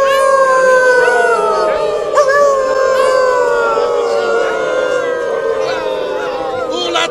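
Crowd at the Eurofurence furry convention, people in fursuits howling together like dogs, voices imitating canine howls in long overlapping wavering cries that sustain loudly and continuously throughout.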